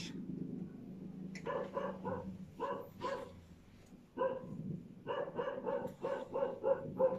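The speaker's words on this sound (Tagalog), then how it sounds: "Ang iingay ng mga aso, hindi nagko-cooperate." Several dogs bark noisily and repeatedly in bursts, loud and fairly close, with short pauses between clusters of barks and no talking over them.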